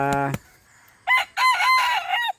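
Red junglefowl roosters crow at close range, one sharp call early on and then a longer drawn-out crow, with faint clucking and fowl sounds in between.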